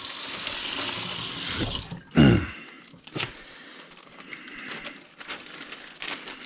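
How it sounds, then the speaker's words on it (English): A kitchen tap runs hard into a sink for about two seconds while something is rinsed off, then cuts off, followed by a brief splash, a throat clear and scattered clinks. "Get that maybe washed off a little before I throw it in the trash"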